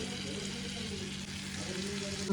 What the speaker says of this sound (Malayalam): നമുക്ക് ചിക്കൻ ഫ്രൈ ചെയ്ത് കൊടുക്കുക.